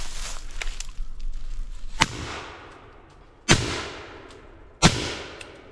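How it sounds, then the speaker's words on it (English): Three loud, sharp shots fired into an older tree, each a sudden crack with a long rolling echo decaying outdoors, spaced about a second and a half apart after softer rustling. "So we're gonna go ahead and put a bullet through it and see what happens."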